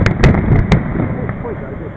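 Fireworks at the Shogawa tourism festival, with a few sharp bursts early on over a dense rumbling crowd background and people talking nearby.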